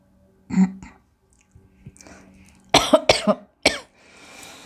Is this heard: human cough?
yes